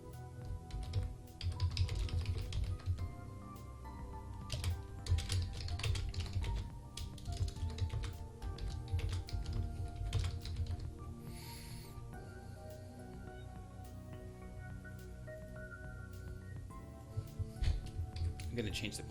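Someone types on a computer keyboard in quick, irregular clusters of close clicks, with someone talking intermittently over the keystrokes.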